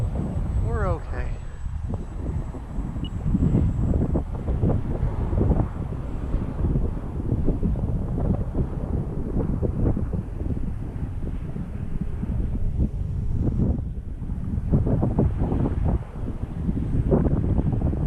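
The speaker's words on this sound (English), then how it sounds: "Boy, that wind." Strong gusts batter the microphone at an outdoor model-airplane field on a very windy day, a heavy continuous low rumble that nearly buries the voices of people talking nearby.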